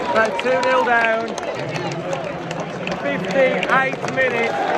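A football stadium crowd at a West Ham versus Wolves match chants and roars loudly and continuously, with nearby fans' voices prominent over the mass of sound.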